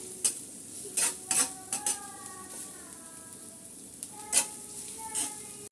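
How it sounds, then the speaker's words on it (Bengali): Chopped onion fries lightly in oil in a pan, a soft low sizzle punctuated by several sharp scraping stirs and utensil clinks against the pan. "পেঁয়াজটা একটু তেলে নেড়ে চেড়ে ভেজে নিচ্ছি হালকা"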